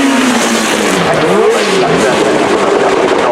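A 1962 Ferrari race car from the Écurie Francorchamps team, with its engine roaring loudly as it drives past at a motorsport festival, the pitch sweeping and wavering with revs.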